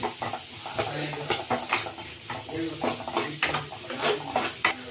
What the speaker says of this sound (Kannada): ಈಗ ಇದಕ್ಕೆ ಈರುಳ್ಳಿ, ಚೆಂದ ಫ್ರೈ ಮಾಡ್ಕೊಳ್ಳೋಣ